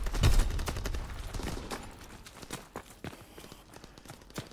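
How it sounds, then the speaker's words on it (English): Rapid gunfire bursts from an aircraft strafing run in the World War II shooter Call of Duty: WWII, loud at first with a booming low rumble, then thinning into scattered sharp cracks and impacts. "Call for a strafing run."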